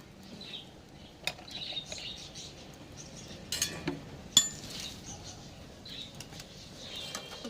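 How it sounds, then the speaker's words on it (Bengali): A lid set onto a cooking pot of bottle gourd gives a few sharp metallic clinks and clatters against a low kitchen background, with quieter clinks scattered before and after. "এবার আমি চাপা দিয়ে দিচ্ছি।"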